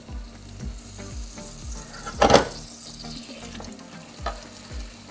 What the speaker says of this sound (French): je mélange encore le petit caramel, j'ai encore du beurre, je mets dedans